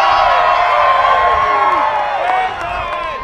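Crowd at a monster truck show roaring and cheering for the Bigfoot truck, a dense, loud wall of whoops and yells that carries steadily, then drops slightly toward the end.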